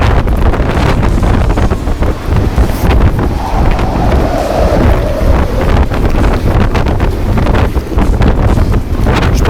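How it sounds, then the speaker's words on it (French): Strong wind buffets the microphone loudly and without a break, a dense low roar with gusty rumbles throughout and no voices. "là il y a vraiment trop de vent"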